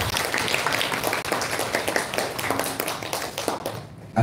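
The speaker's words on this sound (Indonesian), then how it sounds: "Beri tepuk tangan yang meriah untuk 3 pemateri tadi" Lively audience applause for three speakers at a school kick-off event, a dense wash of many hands clapping close by, fading out near the end.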